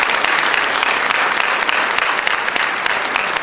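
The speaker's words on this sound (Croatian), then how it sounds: "Jedan veliki aplauz za njih, molim vas." A concert audience in Kragujevac applauds a traditional-culture ensemble: loud, dense, continuous clapping from many hands that stays even throughout.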